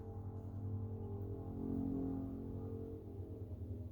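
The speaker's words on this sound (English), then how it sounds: "That sound is what they call an airboat." A faraway airboat engine, about ten miles off, drones steadily as a low, faint hum that swells briefly and then eases back, with no other sounds over it.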